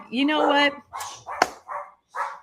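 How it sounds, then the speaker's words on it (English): Several short dog barks at close range, separated by brief pauses, following a person speaking. "Pardon my dogs."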